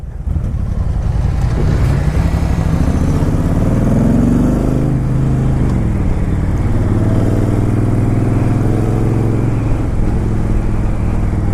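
A 2013 Honda Shadow Saber motorcycle on a test drive roars loudly and continuously, its engine note rising through acceleration and then holding steady under heavy wind buffeting.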